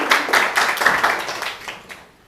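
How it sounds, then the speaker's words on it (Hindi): A classroom group gives a short burst of loud applause, dense overlapping claps that fade out within a couple of seconds. "एक बार जोरदार ताली हो जाए."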